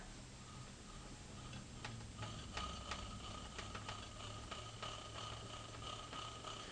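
Plastic gears of a greased, salvaged electrical item spin with a steady, faint mechanical whir and a rapid ticking rhythm, heard up close with no talking.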